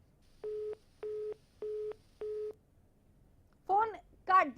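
Four evenly spaced beeps of a telephone busy tone after a call is hung up, steady and clear, followed by a brief burst of a voice at the end.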